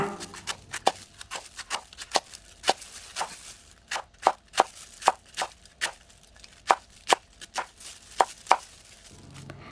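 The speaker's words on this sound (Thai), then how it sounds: "เดี๋ยวเรามาหั่นกระหล่ำปีกันค่ะ" Cabbage chopped with a kitchen knife on a cutting board, a steady series of about twenty crisp, close knife strikes in an even rhythm, alone without talk.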